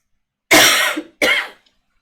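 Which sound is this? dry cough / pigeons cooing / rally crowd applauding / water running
dry cough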